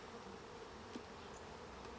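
Honey bees buzz softly and continuously around an open beehive during an inspection, a low steady drone with a few closer passes of individual bees.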